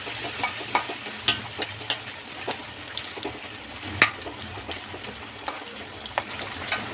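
Onion and carrot fry in a pan for vegetable fried rice, a steady close sizzle broken by repeated clacks of a spatula stirring at an uneven rhythm.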